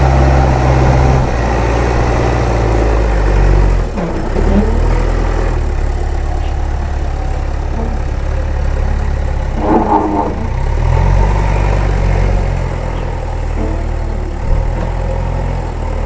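A tractor engine runs steadily on a farm, a loud, continuous low rumble that dips briefly around the middle and swells again, with no voices over it.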